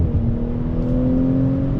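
A 2020 Audi S4 sport sedan accelerates out of a turn, its engine holding a steady loud drone with a low tonal hum, heard from inside the car with no voices.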